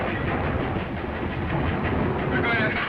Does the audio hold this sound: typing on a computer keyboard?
no